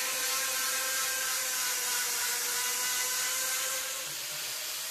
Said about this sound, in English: The sander has been running up to the edge of the bend there